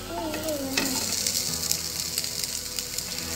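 Boiled potato goes into a veg frankie filling frying in a pan, with a steady close sizzle and crackle throughout and a few stirring scrapes, no talking.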